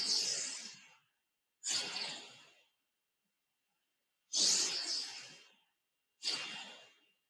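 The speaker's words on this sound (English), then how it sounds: "we're going to begin by breathing in through your nose and out through your nose" Slow, rhythmic breathing in and out through the nose, four soft hissing breaths spaced by pauses, close and quiet with no talking.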